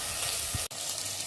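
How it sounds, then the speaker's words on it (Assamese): Onions and tomatoes fry in hot oil in a kadai for kadai paneer, giving a steady, close sizzle broken by one brief click. "পিয়াজখিনি আমি তেলত অকমান লৰাই লওঁ, অকমান সময় ভাজি লওঁ।"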